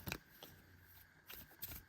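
A deck of trading cards is shuffled by hand, with a few quick soft riffling bursts at the start, middle and end over a faint background, close and quiet.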